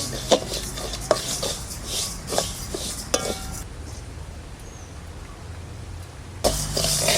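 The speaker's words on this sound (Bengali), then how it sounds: "মুগ ডালটা প্রথমে ভেজে নেব।" Moong dal being dry-roasted in a pan for Janmashtami khichuri, with dry scraping and a series of sharp metallic clinks from a spatula against the pan, then a quieter stretch of faint rustling before louder scraping returns.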